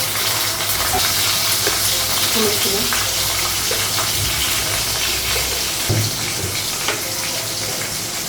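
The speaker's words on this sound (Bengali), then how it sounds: "কড়াই বসিয়ে দিলাম, আর কড়াইয়ের মধ্যে শুকনো লঙ্কা কাঁচা লঙ্কা দিয়েছি আর 5 ফোড়ন" Dry red chillies, green chillies and Bengali five-spice crackle and sizzle in hot oil in a wok in a home kitchen, a steady close frying hiss with running water mixed in.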